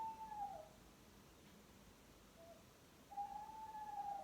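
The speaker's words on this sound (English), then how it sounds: "Yeah, an owl hooting." Two soft, steady hoots of an owl, one at the start and one near the end, separated by quiet, faint and fairly distant.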